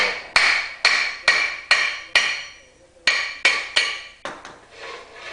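Repeated sharp metallic hammer strikes on a rusted Jeep Liberty rear brake rotor, about ten blows in an uneven rhythm with brief ringing decay after each, loud and close.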